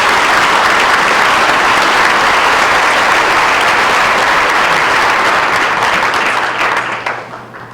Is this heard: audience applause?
yes